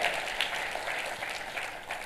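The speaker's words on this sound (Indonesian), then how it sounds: "Tepuk tangannya pula yang lebih meriah buat Tuhan yang membawa kesegaran." A church congregation claps in praise during a worship service, a dense, continuous patter of many hands heard fairly faint and distant throughout.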